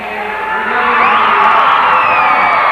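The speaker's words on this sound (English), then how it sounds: "a good cheer from the group on hand" A crowd in a gym cheers and whoops loudly for the heavyweight (275 lb) wrestling champion at the medal stand, a dense, sustained roar of voices that swells slightly and holds for a few seconds.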